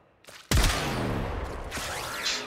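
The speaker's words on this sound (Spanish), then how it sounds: "Un disparo." A single loud weapon blast in the Warframe video game, a sharp crack followed by a long ringing, metallic decaying tail, with faint activity before it.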